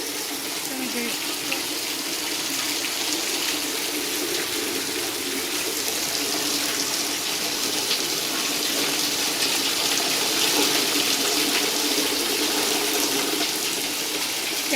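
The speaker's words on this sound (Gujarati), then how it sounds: "જુઓ બરાબર વરસાદ પડે છે" Heavy monsoon rain pours down near a village home with flooded farm fields, making a dense, loud, unbroken hiss that stays steady throughout with no clear voices over it.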